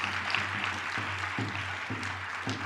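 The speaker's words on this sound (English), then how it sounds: "Give a big round of applause" An audience claps in a continuous, even burst of applause that fills the room at a moderate level, accompanied by a low repeating hum.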